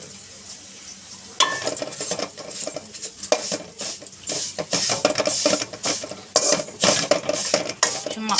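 A utensil stirs vermicelli as it roasts in a pan, scraping and clinking against the metal steadily over a soft sizzle, with no talk.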